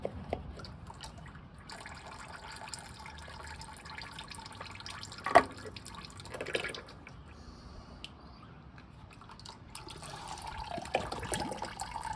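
Engine oil trickles out of the opened filter mount on a first-generation Toyota Sequoia or Tundra during an oil change, a soft continuous drip and splash with a couple of metallic knocks, close and fairly quiet.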